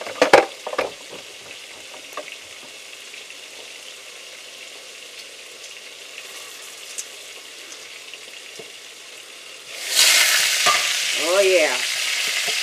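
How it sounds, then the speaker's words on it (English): Pork pieces frying in a pan, a steady close sizzle that flares louder and brighter near the end as the meat is stirred, with a brief spoken remark early on. "we're going to check our pork again and see how it looks"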